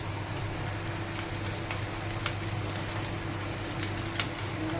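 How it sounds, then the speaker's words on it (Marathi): Surmai kingfish pieces, including head pieces, fry in hot oil with a dense, constant sizzle and faint crackles throughout, fairly loud and close, with no voices. "फ्राय करून घेते भरपूर मच्छी हो पीस त्याच्यात पण टाकले मी चार पाच तुकडे डोक्याचे दोन तुकडे टाकले"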